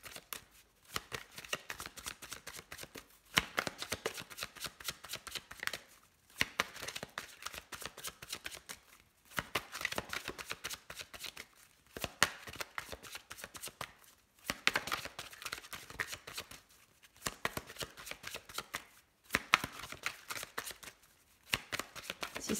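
Oracle cards being shuffled by hand in repeated bursts of quick riffling flicks, separated by brief pauses, close and soft with no talking.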